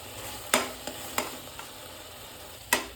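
A tomato, onion and cashew puree sautés in a pan with a soft, steady hiss, broken by a few sharp scrapes of a spoon stirring it.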